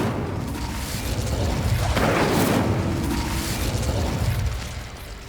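Incendio fire spell in the video game Hogwarts Legacy, a loud roaring blast that swells to a whooshing burst mid-clip and then fades, heard alone without talk.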